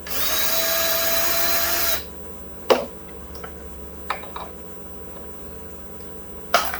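A power drill drilling out a primer crimp in a cartridge case whirs loudly for about two seconds, then stops, followed by several sharp clicks and taps of the case and tools.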